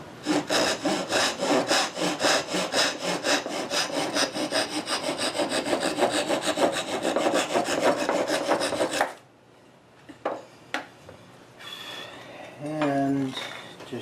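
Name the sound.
hand saw trimming wooden tenon on Queen Anne chair stretcher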